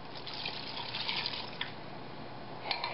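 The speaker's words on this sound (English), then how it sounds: "Then I'm going to add probably an equal amount of water" Water pours steadily into a soup pot holding chicken stock and softened onions, a soft continuous trickling with a few small splashes, faint and close, no talk.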